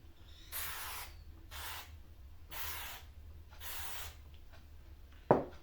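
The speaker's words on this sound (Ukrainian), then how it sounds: "Нам знадобиться спрей силіконовий. Це ж для того, щоб змастити форму." A can of silicone spray hisses in four short bursts at a steady rhythm as it coats a mould for casting silicone fishing lures, followed by a brief sharp knock near the end.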